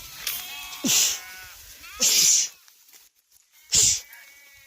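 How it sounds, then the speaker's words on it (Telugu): Sheep on a village farm, out of their pen and not eating their fodder, give three loud, close bleats spaced about a second apart, with quieter rustling and faint sounds between calls. "మన గొర్రెలు అయితే సొప్పలు తినలేక బయట ఆట ఆడుతున్నాయి"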